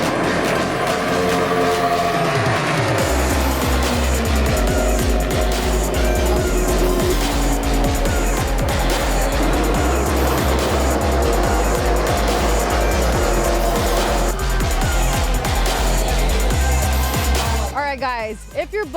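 NASCAR stock cars race at the Pennzoil 400 in Las Vegas, loud engine roar sweeping past with tire noise, continuous and near under music and talk.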